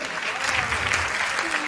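An audience at a Hindi comic poetry show claps together, a brief, dense burst of applause heard up close with a voice mixed in over it.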